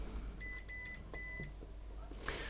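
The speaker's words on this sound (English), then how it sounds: "we will just double check with the multimeter and just make sure that we've got contact across that switch" A multimeter gives three short, faint continuity beeps in quick succession while probing a switch on a 2006 Toyota Corolla key fob circuit board, followed by a small click.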